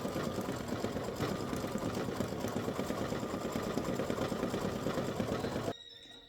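An embroidery machine stitches white thread for the eyes of a Halloween pumpkin face design, a steady rapid mechanical whir running several seconds before stopping abruptly.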